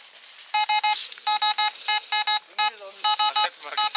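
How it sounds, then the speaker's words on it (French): A metal detector beeps in quick repeated bursts, loud and close, with short gaps between them and a voice briefly underneath. "Voilà, ça bip déjà les amis."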